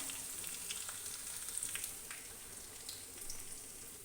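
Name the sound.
garlic frying in a pan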